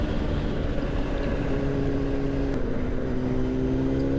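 A motorcycle carrying a rider and a passenger cruises along the road to Rhayader, its engine a steady loud drone with a slowly rising tone and wind rush, no speech.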